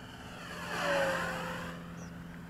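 A Parkzone Spitfire RC model plane flies past with a buzzing electric propeller whine that swells and dips in pitch as it passes close by, then fades, with no speech.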